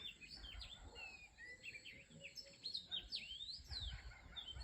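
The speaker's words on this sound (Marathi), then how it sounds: "त्यात पक्ष्यांचा किलबिलाट ऐकून तर मन एकदम तृप्त झालं" Several birds chirp and tweet in the quiet early morning outside a house, quick overlapping calls at moderate distance against soft background hum, with no talking.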